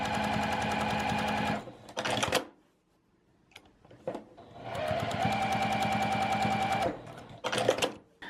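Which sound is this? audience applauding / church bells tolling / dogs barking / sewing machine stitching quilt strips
sewing machine stitching quilt strips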